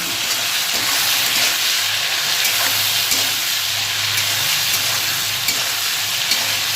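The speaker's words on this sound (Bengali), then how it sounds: "এবার ভালো করে নেড়ে মিশিয়ে দেবো।" Small fish being stirred in a pan with slit green chilies, salt and turmeric: a steady, close sizzle runs unbroken throughout, with soft scraping from the stirring and no voices.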